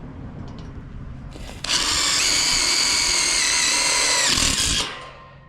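A power drill drives screws into a Versatube metal building truss, whirring steadily and loudly for about three seconds before winding down, and no one speaks.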